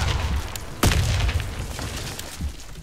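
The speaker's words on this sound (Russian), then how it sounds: "Граната! Кидаю гранату!" A grenade explodes in a first-person shooter match, one deep booming blast with a short rumbling tail amid ongoing game noise.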